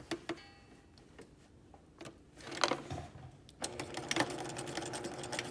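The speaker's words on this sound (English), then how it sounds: "we're going to want to be stitching about a 1/16 of an inch away from our seam" Sewing machine running short, quiet bursts of stitching along a collar seam, a soft mechanical whir with ticking clicks between starts and stops, close and faint.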